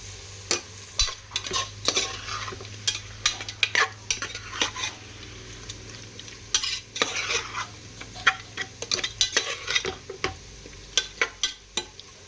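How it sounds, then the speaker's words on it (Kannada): Chicken pieces frying with turmeric sizzle in a pan while a spoon stirs and scrapes in brisk, irregular clatters, close and clear throughout. "ಅರಿಶಿನ ಹಾಕೊಂಡು ಒಂದ್ಸತಿ ಫ್ರೈ ಮಾಡ್ಕೊಳ್ಳಿ."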